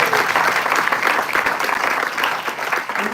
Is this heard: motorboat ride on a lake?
no